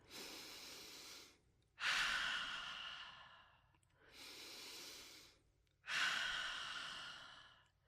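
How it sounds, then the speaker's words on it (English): Slow, deep breathing during a guided relaxation exercise, air drawn in through the nose and let out through the mouth, four long soft breaths alternating in and out, close and quiet with no talking. "Repeat, taking 2 more deep breaths in and out."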